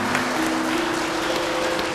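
Audience applause at a televised Dhamma TV gathering in Indonesia, a steady dense wash of clapping filling the whole moment, with a faint sustained tone running underneath.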